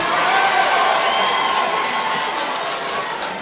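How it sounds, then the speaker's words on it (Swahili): Church crowd applauding in a dense, steady wash of clapping with some cheering, loud and sustained throughout, tapering slightly toward the end. "Tumpigie makofi tena."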